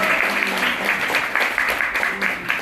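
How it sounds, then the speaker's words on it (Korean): Wedding guests applauding in a hall, a steady wash of many hands clapping at moderate distance with faint speech underneath. "박수 한번 부탁드리겠습니다."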